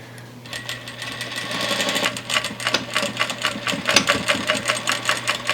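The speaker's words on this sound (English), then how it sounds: "I'm just gonna go over the seam 2 to 3 times." Industrial sewing machine stitching over a seam on baby bloomers, a fast rhythmic mechanical whir that starts softly and speeds into steady loud pulsing needle strokes, close up with no talk.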